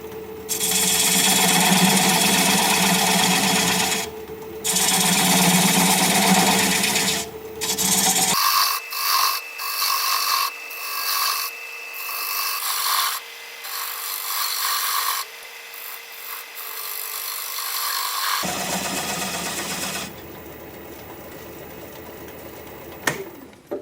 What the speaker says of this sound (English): I'm just going to take this 3/8 inch standard grind bowl gouge and commence to removing that tenon.